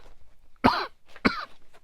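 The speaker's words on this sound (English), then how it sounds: "Oh, it's coughing and sneezing now." A person coughs twice at close range, two sharp bursts about half a second apart in a quiet room.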